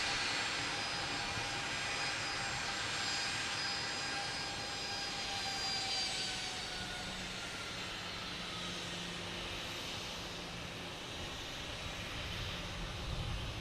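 An Alaska Airlines jet taxiing close by at Boston Logan Airport gives off a steady, faint engine whine and broad rushing hum that lasts the whole stretch without a break.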